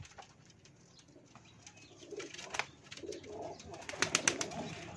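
Pigeons coo softly in short repeated bursts among scattered chirps and a brief flutter of wings, growing a little louder toward the end, with no voices.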